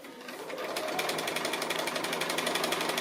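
Sewing machine running steadily during free-motion appliqué stitching on fabric, a fast continuous rattling whir with a rapid even needle pulse, close and alone.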